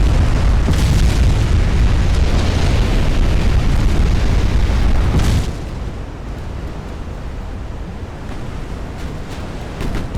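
Warship explosion from a flash fire in the naval game Ultimate Admiral: Dreadnoughts, a loud, sustained roaring boom for about five seconds that drops off sharply into a lower, steady rumble like surf and wind.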